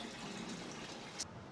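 Water flows steadily through a hotel water feature, a soft continuous rush heard from nearby with no voices over it.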